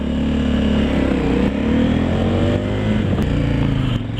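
A KTM 1290 Super Adventure motorcycle rolls into a dealership, its engine a steady, close, continuous drone with slight shifts in pitch and no talk over it.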